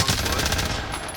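Rapid automatic gunfire from a shooter video game, a dense continuous burst of close shots filling the whole moment at steady loudness.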